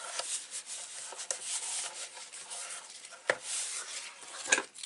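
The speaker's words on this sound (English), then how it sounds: "So a nice little border, keeping it level all the way along, and burnish." Burnishing a paper border on a mini album page, with a run of close, dry rubbing strokes and a few sharper scrapes.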